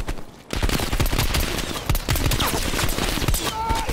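Rapid gunfire from Call of Duty Black Ops Cold War, a dense loud fusillade of overlapping shots and bursts running almost the whole clip after a brief quiet start.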